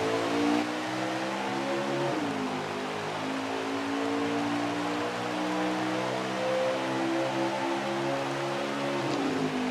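Stock cars in a NASCAR video game race at Auto Club drone along together, a steady, loud layered engine roar with harmonics sliding slightly as the pack accelerates, continuous throughout.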